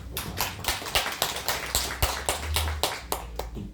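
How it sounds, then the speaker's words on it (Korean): A congregation at a Christmas worship service claps together in steady, evenly spaced beats, a crisp group applause with no talking over it. "박수로 감사합니다"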